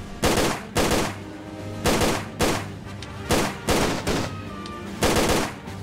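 Repeated gunshots in the video game Tomb Raider: The Angel of Darkness, about seven loud, close bursts in an uneven rhythm with brief gaps between them.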